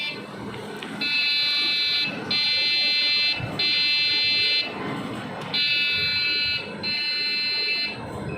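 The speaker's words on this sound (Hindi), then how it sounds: "सिस्टम बीप दे रहा है और डिस्प्ले कोई नहीं आ रहा।" A desktop PC with a faulty RAM slot, powered on with no display, gives a loud repeating startup beep pattern, long steady tones with short gaps, over a low hum and some faint background voice.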